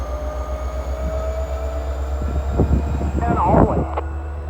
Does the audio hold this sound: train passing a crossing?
yes